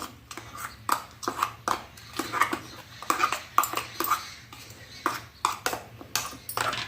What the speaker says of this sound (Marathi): आता हे सगळं मिक्स करून घेते मी